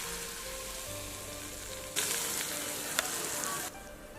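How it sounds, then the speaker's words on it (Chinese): Hot oil is poured over garlic, scallion, chili powder and white sesame, setting off a sudden loud hiss that sizzles steadily for about two seconds, then drops back to a faint background. "再来一点辣椒粉，白芝麻，用热油泼一下"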